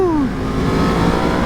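A Yamaha FZ-10 motorcycle engine revs hard under acceleration in first gear, a loud, close, continuous roar with pitch sweeping through the gear, no talking over it.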